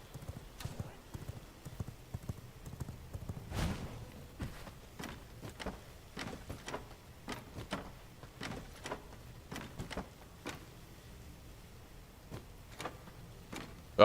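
Horse hooves clip-clopping in the game V Rising, a steady walking rhythm of distinct close hoof strikes over a quiet background, without talk.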